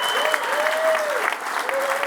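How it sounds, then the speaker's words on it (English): A conference audience at an AI and XRPL blockchain finance event gives its MC a round of applause, a steady, dense wash of clapping with a voice carrying over it throughout. "Could we just give a round of applause to Wayne, our MC?"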